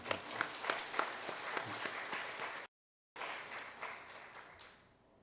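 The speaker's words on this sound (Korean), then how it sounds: "우리 박수 한번 쳐드리십시오." A church congregation claps for a member, a moderately loud wash of applause that drops out briefly, resumes and then tapers off.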